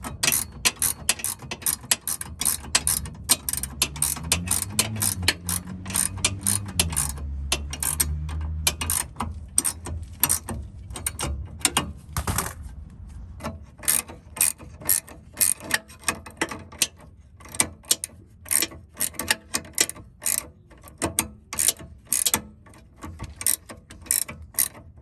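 A ratchet clicks rapidly and repeatedly up close while tightening the rear sway bar link nuts on an Audi/VW, in quick bursts with short pauses, over a low rumbling hum early on.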